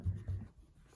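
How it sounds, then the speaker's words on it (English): A plastic eraser rubs across paper, clearing extra pencil grid lines: two short scrubbing strokes near the start, then softer continued rubbing, close and quiet with no talk. "I'm going to come back with a plastic eraser and erase the extra lines."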